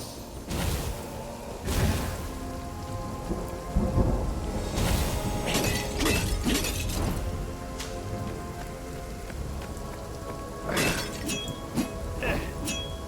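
Objects smashing and shattering in the video game Stories: The Path of Destinies, heavy crashing impacts and breaking debris over a rumbling, rain-like game backdrop, loud and close with several bursts.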